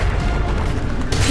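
A Bombarda blasting spell explodes in Hogwarts Legacy with a loud, low, rumbling boom. It fills the whole brief moment, a dense blast that swells again near the end and leaves no quiet gaps.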